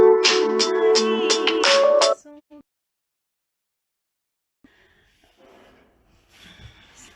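A phone ringtone rings loudly and up close in a melodic pattern for about two seconds during a Hindi poetry recital, then cuts off into near silence, followed by faint rustling and handling noise.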